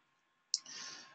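A single crisp mouse click while opening a link in CRM software, one short sharp tick after near silence, close and quiet.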